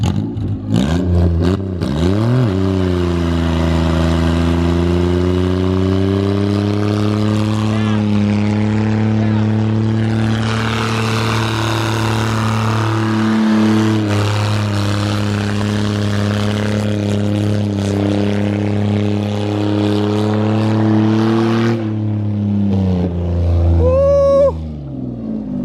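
A $750 budget drift car's engine revs hard and steady for most of the stretch, a loud sustained harmonic drone that climbs and holds before dropping off near the end, with people talking over it.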